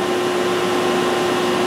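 A Fanuc OM CNC mill spindle runs while cutting air at slowed speed and feed, giving a steady, loud, unbroken whir with a constant tonal hum throughout.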